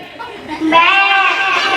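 A person imitates a goat with a loud, wavering nasal bleat, close up, following a brief bit of speech.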